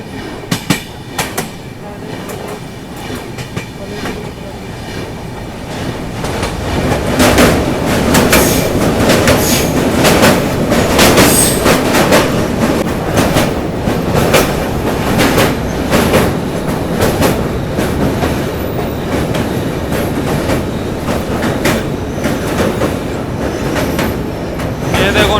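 The Guwahati–New Delhi Rajdhani Express rolls across a bridge beneath a road, its loud, continuous rumble and rhythmic wheel clatter building after a quieter start and holding steady close by.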